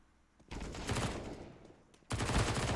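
Bursts of MP9 submachine gun fire in a Counter-Strike esports match: a long sustained volley, a brief lull, then a second loud burst, with no talk over it.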